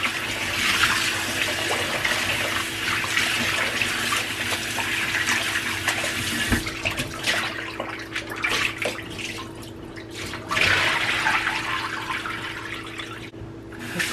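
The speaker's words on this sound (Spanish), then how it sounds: "Le pongo agua limpia para ponerle el limón." Clean tap water runs steadily into a pot as a cook prepares menudo verde, rinsing a cut cow's foot with fresh water before adding lime; a continuous close splash and hiss with a short lull near the end.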